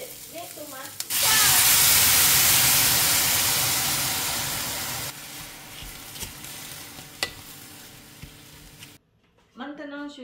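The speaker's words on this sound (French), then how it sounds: "je vais verser les tomates." Tomatoes poured into a hot pan of browned onions in olive oil set off a sudden loud sizzle that slowly fades into a steady frying hiss, with a brief voice before and after.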